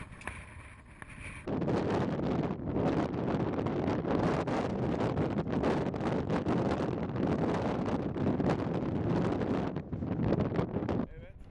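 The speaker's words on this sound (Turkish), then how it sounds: "Yükselmeye başladıkça rüzgar şiddetini artırıyor" On a climb of Mount Ağrı (Ararat), strong wind roars and buffets the microphone continuously, loud and rough, after a brief quieter moment at the start.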